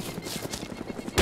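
Rapid automatic gunfire in the Arma 2 DayZ mod rattles off in a fast rhythmic burst of repeated shots, moderately loud, ending in a sharper, louder blast.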